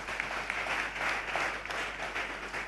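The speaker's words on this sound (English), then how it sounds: "Please clap for this voice." A church congregation gives a brief, soft round of clapping, faint and somewhat distant, at a sermon service.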